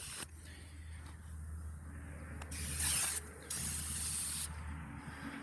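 Meguiar's Hot Shine foam tire spray hisses from an aerosol can onto a tire still dusty with Georgia clay, a steady close spray interrupted by two short pauses, over a low background hum, with no talk.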